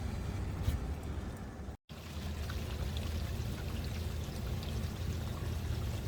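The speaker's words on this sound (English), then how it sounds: "This is the final rinse, I do believe, of our tank" Water pouring and splashing steadily during the final rinse of an RV holding tank, a continuous loud gushing wash with a brief dropout near the start.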